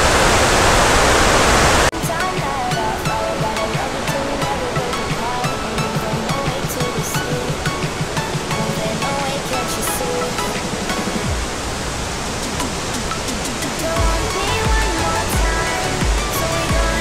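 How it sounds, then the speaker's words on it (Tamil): Athirappilly waterfall in Kerala, India, heard as a dense, steady roar of falling water, loud and continuous throughout, with faint voices underneath. "இதுதான் ஜப்ரா ஃபால்ஸ்."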